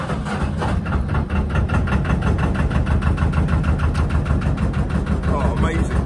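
A narrowboat's diesel engine starts after sitting idle for weeks, chugging steadily in a rapid, even rhythm close by, running continuously throughout with a faint rattle on top.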